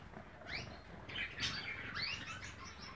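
Gould finches and canaries singing in a cage, with faint, quick chirps and twittering phrases repeating over a low background hum.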